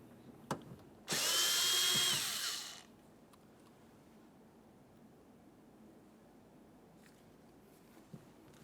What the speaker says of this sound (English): Remove the Phillips head screw.